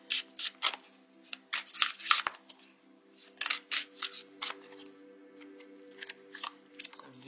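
Tarot cards being shuffled and drawn by hand, a quiet series of crisp riffling and snapping bursts in irregular clusters, close up, with no talking.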